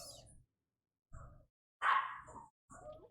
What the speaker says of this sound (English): My dogs are screaming.